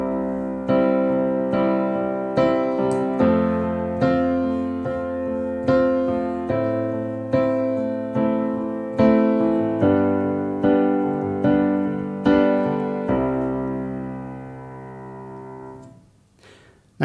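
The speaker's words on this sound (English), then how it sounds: "That's kind of the popular approach to playing the piano" Piano chords played in a steady rhythm, each full chord struck and held before the next, ringing out alone and fading at the end.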